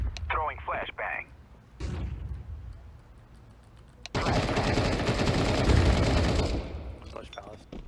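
A tactical shooter game plays out as a flashbang detonates and a sustained burst of gunfire and explosions roars for several seconds, with players talking over the action before and after.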